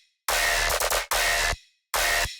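A tearout bass drop made from original bass samples with shaper saturation added: fattened, slightly messy growling bass bursts come in three choppy phrases with brief silences between them, loud and with no speech.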